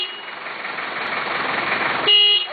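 Engine rumble with traffic noise, then a short, loud car horn honk near the end.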